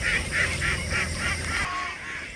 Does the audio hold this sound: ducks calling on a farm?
yes